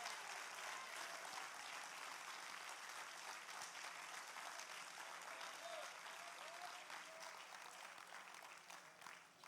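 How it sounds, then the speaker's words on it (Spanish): A church congregation applauding together, a steady dense wash of clapping that holds strong for the whole stretch and eases slightly toward the end. "Denle un aplauso. Si lo va a dar para el Señor,"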